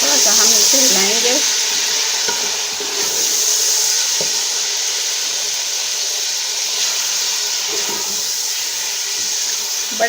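Chicken and mixed vegetables sizzle steadily in a hot pan while being stirred. A constant, close frying hiss runs throughout, with occasional scraping stir sounds and no voices.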